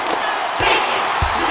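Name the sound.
basketball crowd cheering in a video game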